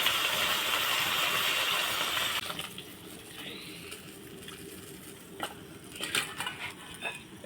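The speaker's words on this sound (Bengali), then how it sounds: "এই পিস ভাজা হয়ে গেছে, এবার উল্টে দিব।" Pieces of bata fish frying in a pan are turned over, a loud steady sizzle for the first couple of seconds, then quieter frying with a few sharp utensil clicks and scrapes against the pan.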